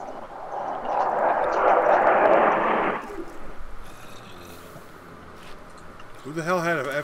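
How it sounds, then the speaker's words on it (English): A broad, roaring whoosh from an F-15 fighter jet in Minecraft swells loudly for about three seconds, then cuts off and fades, followed by quieter murmuring talk and a wavering tone near the end. "Who the hell had an F-15 flying through their house?"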